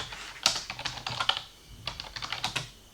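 A name is typed on a computer keyboard in quick, close bursts of clicking keystrokes, with a brief pause partway through and no talking.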